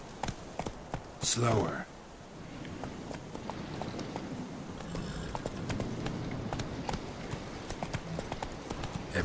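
Roach the horse's hooves clip-clop in a brisk rhythm through The Witcher 3, close and steady, with a loud whoosh early on and a short spoken word over the hoofbeats.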